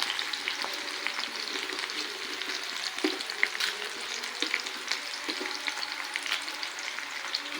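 Onions and green chillies fry in a pan for a Guntur gongura curry, a steady close sizzle with faint crackles throughout and no talking.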